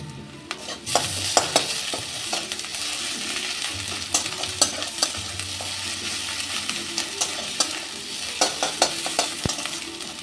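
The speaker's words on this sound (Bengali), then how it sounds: "পেঁয়াজটা অল্প ভাজা হয়ে গেছে এবার দিয়ে দেব আদা কাঁচা লঙ্কা আর রসুন" Onion fries in a pan with ginger, green chilli and garlic, making a continuous sizzle punctuated by repeated clinks and scrapes of a spatula stirring close by.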